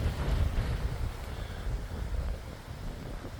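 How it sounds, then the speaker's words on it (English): Gusty wind buffets the microphone with low, rumbling thumps and rushing noise, strongest at first and then easing a little, on the grounds of Wat Wachiralongkon Wararam Worawihan temple in Thailand. "the wind's blowing me around"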